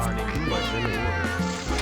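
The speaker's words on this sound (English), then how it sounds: "What the hell's this cat doing in the house?" A cat meows inside a house in the video game The Sims 2, several short mews mixed with game music and background tones, with speech-like sound present.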